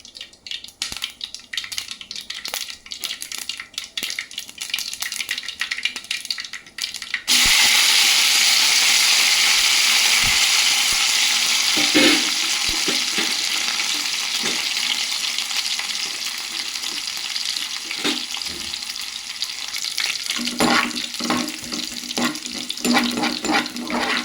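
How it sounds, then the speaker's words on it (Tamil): Mustard seeds and onion hit hot oil for tempering a banana stem dal kootu, a sudden loud sizzle starting partway through after a quieter stretch, then steady frying crackle with occasional stirring. "மூணு ஸ்பூன் எண்ணெய் ஊற்றிக்கோங்க கடுகு வெங்காயம் போட்டு தாளிங்க"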